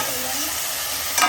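Onion and tomato frying and being stirred in a pan for Maggi noodles give a steady, close, loud sizzle that runs without a break and swells slightly at the end.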